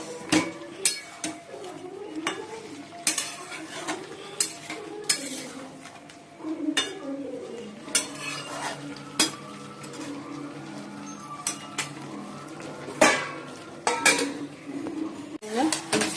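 Leafy greens (shak) cooking in a home kitchen pan, with repeated metallic clinks and scrapes of stirring at an irregular pace, close and moderately loud. Soft talk drifts in now and then.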